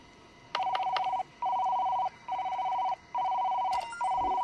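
Office desk phone in Job Simulator ringing with an electronic warble, five steady bursts of about a second each separated by short gaps, loud and near, with a few faint clicks and thumps of handling.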